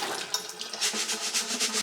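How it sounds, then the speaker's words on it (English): Running water splashing over rice grains in a bowl during rinsing, a close, steady wash with pulsing swishes as the rice is swirled, ending abruptly. "A good little trick if you're getting used to washing your rice is to wait until the water runs clear"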